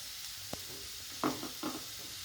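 Bottle gourd pieces frying with onions and turmeric in a pan, a soft steady sizzle with a few short stirring scrapes, close and fairly quiet, no talking.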